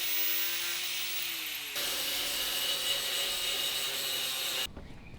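Steady high-pitched grinding on metal as a cutting tool trims the protruding ends off bolts during an aluminum flatbed dump-bed build, running continuously with a pitch shift partway before cutting off abruptly near the end.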